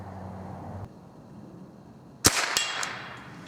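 A single sharp gunshot fired at an outdoor target cracks out loudly and briefly, followed by a short ringing tail and a couple of faint knocks.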